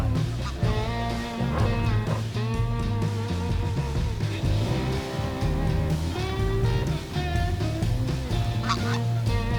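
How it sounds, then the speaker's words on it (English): A flock of geese honking loudly and continuously, overlapping calls close by with no talking, as two geese fly in behind a dog in the water. "here's two geese coming in, right behind the dog"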